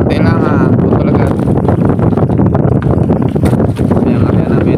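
Strong northeast monsoon wind at sea during net fishing, a loud steady roar of wind buffeting the microphone with water and boat noise, continuous throughout with a voice speaking underneath.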